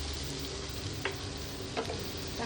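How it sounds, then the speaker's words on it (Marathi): Chilli, salt and turmeric hit hot oil in a pan with dried fish, producing a dense, even sizzle with a couple of brief stirring scrapes, close and with no voices. "ही मिरची आणि मीठ काढलेलं आहे ते तेलामध्ये टाकून घेऊया."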